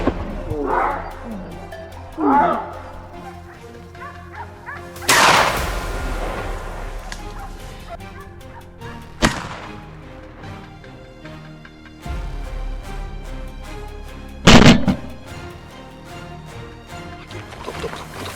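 Several loud, sharp gunshots fired at wild boar during a close-range hunt, a few seconds apart, with a reverberant tail after each blast over a busy background of layered sound.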